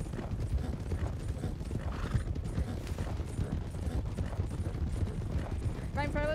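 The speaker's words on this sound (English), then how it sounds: "Watch the horses here." Horses clip-clop at a brisk pace in a Western roleplay video game, hooves close and rhythmic, with a sharp neigh near the end and voices talking underneath.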